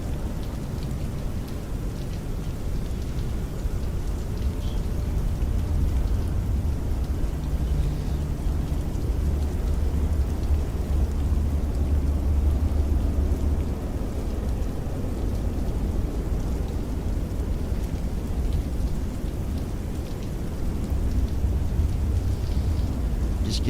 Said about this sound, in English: I thought we were gonna get away from rain for a little bit,